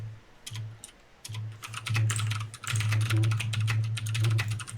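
A loud computer keyboard clatters with rapid, uneven typing up close over a steady low hum, the keystrokes growing denser and louder after a short pause.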